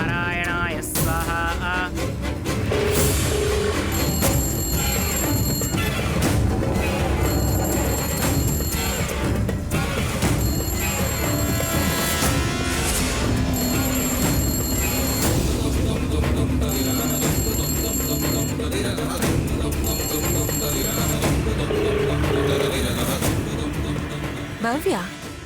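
A telephone rings repeatedly with an incoming call, its regular bursts of electronic ringing recurring throughout while people talk loudly and other sounds play underneath.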